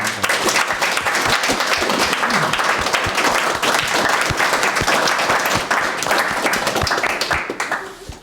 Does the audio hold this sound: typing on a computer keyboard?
no